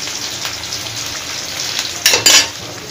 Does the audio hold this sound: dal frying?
yes